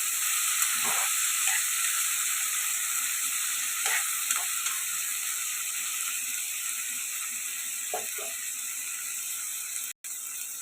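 Gongura and brinjal curry cooking in a pan over a medium flame, giving a steady hiss of simmering with a few faint stirring clinks, close and unbroken, no voices.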